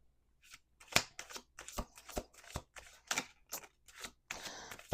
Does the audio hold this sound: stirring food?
no